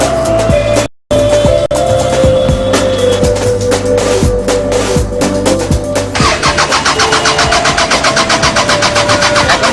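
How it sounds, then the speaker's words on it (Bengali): A car engine idles steadily with a recurring low thump and mechanical hum, then the tone shifts near the end as the engine is cut off remotely, an anti-theft shutdown triggered by its owner. "আমি এখন গাড়িটাকে বন্ধ করে দিই।"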